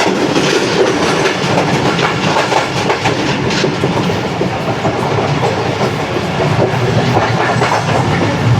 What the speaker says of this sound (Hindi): अरे जी हैदराबाद शहर में इंटर हो रही है ट्रेन आहिस्ता आहिस्ता।